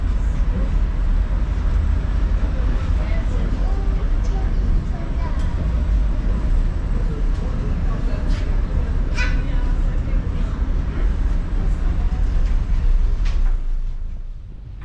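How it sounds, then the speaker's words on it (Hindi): A ferry pushing through ice on the River Elbe in Hamburg, Germany gives off a loud, continuous grinding rumble mixed with wind buffeting, steady throughout before easing off at the very end. "फेरी जब ये आइस में चलती है तो उसका बिल्कुल आवाज़ बदल जाता है, एक डिफरेंट, जैसे कि कोई रेलवे ट्रैक में चल रही हो वैसी आवाज़ आती है।"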